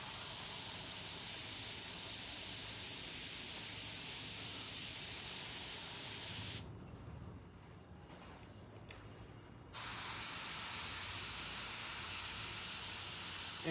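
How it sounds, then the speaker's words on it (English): An airbrush gun sprays paint in a steady, soft hiss that runs continuously, cuts out for about three seconds, then resumes just as evenly. "things I can capture with my airbrush gun"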